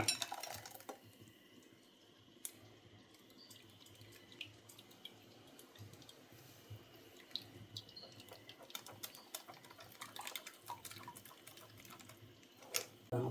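Blended coconut being strained in a home kitchen, a soft steady trickle of liquid with scattered clinks of a bowl and utensils, quiet and close.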